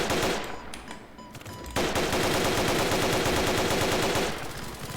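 Guards firing guns in a Roblox Squid Game round, loud rapid automatic gunfire that briefly thins out, then returns as a sustained close burst lasting several seconds.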